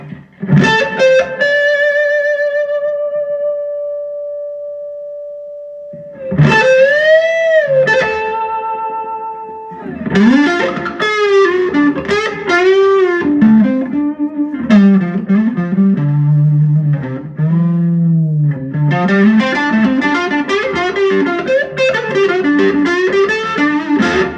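Electric guitar on the neck pickup, run through effects and an out-of-phase wiring setup: a held chord rings out and decays, then strummed chords and melodic runs follow, loud and upfront with no talking.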